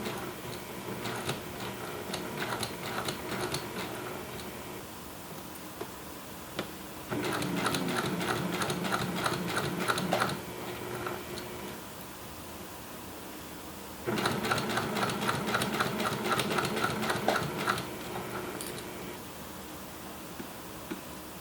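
A sewing machine stitches an invisible zipper into a throw pillow with piping, running in close, rapid bursts of several seconds each, separated by short pauses.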